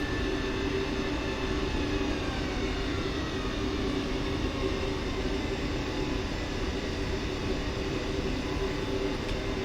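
Steady engine drone of a Cebu Pacific Airbus A320neo taxiing toward runway 31 at Manila in Microsoft Flight Simulator, a continuous loud hum with a constant whine and no breaks.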